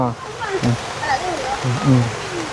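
Heavy rain pours around a rural house with an earthen floor, a steady close hiss that runs throughout while a person talks over it.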